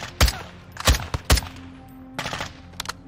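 Gunfire from an M4 rifle in the Modern Warfare 2 video game: about five sharp, loud shots in short, uneven bursts, with a faint tail between them and no talking.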